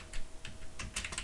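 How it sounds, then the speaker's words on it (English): Typing on a computer keyboard, a quick run of soft, close keystroke clicks in an irregular rhythm, heard alone. "and then I can start typing."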